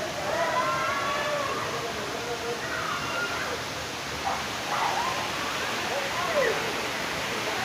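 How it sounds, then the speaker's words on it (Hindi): Waterfall streaming beside a small hillside cave, a steady broadband rush that persists throughout, with faint birdlike chirps and a few distant voices over it. "ये इस साइड में झरना बह रहा है"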